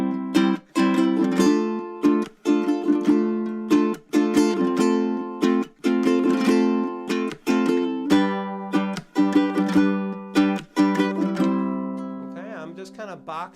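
A ukulele strums a repeating beginner pattern for a song, with fan-stroke flicks added, ringing chords broken by short regular gaps, close and alone with no talking.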